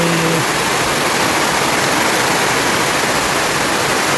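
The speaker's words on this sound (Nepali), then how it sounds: "यस्तो डरलाग्दो पानी" A heavy downpour drums steadily in a hill village near Mirik, Darjeeling, a loud, close, even roar of rain that never lets up, with a faint low hum briefly underneath at the start.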